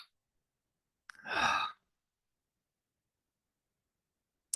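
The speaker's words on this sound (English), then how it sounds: "take a nice deep breath with me" One slow, deep breath, audible as a single breathy sigh lasting under a second, with silence before and after.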